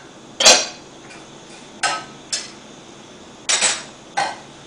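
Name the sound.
shaking a pot of popcorn on the burner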